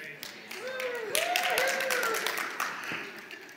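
Church congregation at a Sunday gathering clapping and cheering: sharp hand claps ring out over raised, sustained voices and whoops, swelling midway and fading toward the end.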